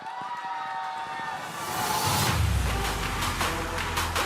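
Esports arena crowd at a Mobile Legends pro league match, a roar of shouting and cheering that swells sharply partway through and stays loud, with a commentator speaking over it.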